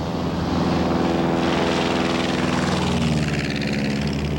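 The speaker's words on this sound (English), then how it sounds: "I took off on this airplane, which is the exact replica of the one John Denver was in" Propeller airplane in flight, a replica of the aircraft John Denver flew, an EZ type; steady loud engine and propeller drone with strong low harmonic tones, continuous and close throughout, no voices.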